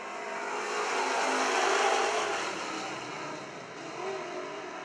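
Wissota Super Stock race cars roar around a speedway oval as a pack, a loud sustained engine drone that swells and fades as they pass through the turns, with no talk.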